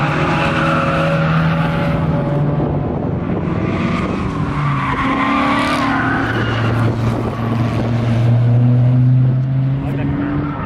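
A BMW race car at a Mid-Ohio GRIDLIFE track event, its exhaust droning loud and close with rising and falling engine tones as it passes through and accelerates.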